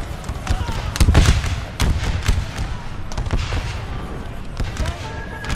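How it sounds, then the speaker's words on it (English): Gunfire from an American Civil War video game battle cracks in scattered bursts and volleys, some loud and near, others dull and distant, with a voice talking under it. "You see gunshots cutting down this grass and all the bullets coming down this grass."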